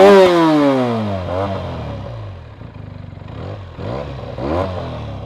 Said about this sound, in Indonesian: Sekarang suara knalpotnya